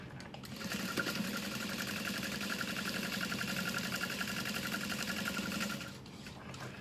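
A sewing machine runs in one steady, continuous stitching burst of several seconds across the bottom of wallet card slots, starting after a brief pause and stopping cleanly near the end.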